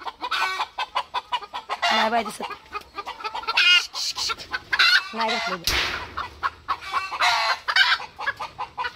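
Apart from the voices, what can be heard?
hen clucking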